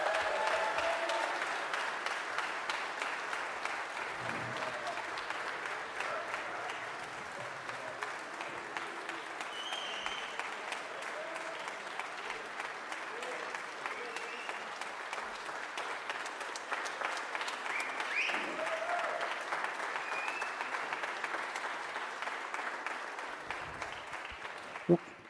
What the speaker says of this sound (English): Can we have one more round of applause for everybody on stage